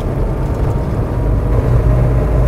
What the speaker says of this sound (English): You can hear the turbos kick in